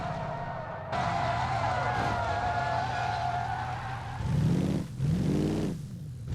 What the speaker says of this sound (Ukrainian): Двигун працює. Вона їде, вона на ходу.